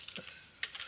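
Light, quick keystrokes on a computer keyboard as a search term is typed into a search bar, a handful of soft clicks, quiet and close with no talking.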